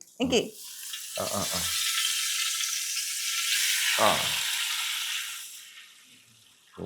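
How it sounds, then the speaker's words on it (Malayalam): Hot boiling ghee is poured into a pan for an Onam cooking show and sizzles loudly in a steady hiss, with short bursts of people talking. "പയ്യെ ഒഴിക്കടേ, തിളച്ച നെയ്യാണ്"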